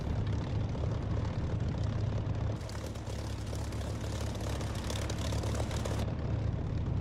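A military aircraft taxies toward the runway in the DCS flight simulator game, a steady, loud engine drone running continuously throughout with a slight shift in tone partway through, no talking.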